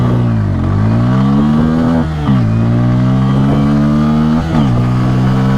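A Hero Xtreme 160R 4V or Bajaj Pulsar N160 motorcycle pulls hard from first gear in an acceleration test. The loud, close engine climbs in pitch through each gear, with short dips at two quick shifts and no talk.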